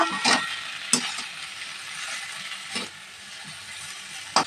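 Ghatkol, or taro stolon, with chilli powder being stirred and mixed in a frying pan: a soft steady sizzle runs throughout, broken by a few sharp spatula scrapes and clinks near the start, at mid-clip and at the very end.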